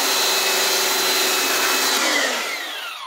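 Lavor Smart Plus 130 pressure washer spraying water to strip mould and black grime, a loud broad hissing rush with a faint motor whine beneath, steady and close, easing slightly toward the end.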